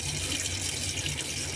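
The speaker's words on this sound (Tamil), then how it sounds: "தண்ணி ஆன் பண்ண போகிறேன் பாருங்கள்." Water gushes steadily from a wash basin tap with a zinc tap filter, a constant hissing rush at close range with no pauses.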